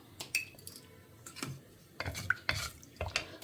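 Mustard and fenugreek seeds spluttering in hot sesame oil, scattered crackles and pops coming in small bursts, close and fairly quiet.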